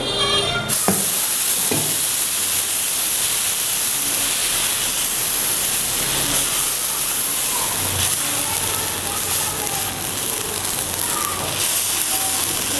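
Steady, loud sizzling hiss of wheat-flour batter cooking on a hot oiled griddle, continuous throughout with faint clinks, no voices.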